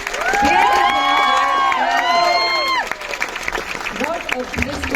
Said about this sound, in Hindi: Everybody, तालियां रुकनी नहीं चाहिए.